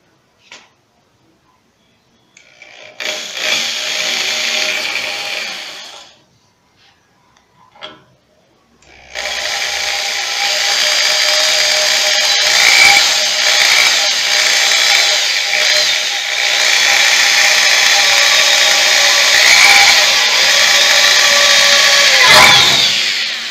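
Drilling a small hole in a Koblenz washing machine part: a power drill whines in a short burst, pauses, then runs steadily for over ten seconds, loud and close with a bright buzzing tone.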